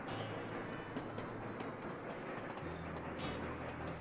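Train rolling steadily along the track in the Sweet Transit railway city-builder game, a continuous rumble with low hum and occasional high tonal whines, alone without talk.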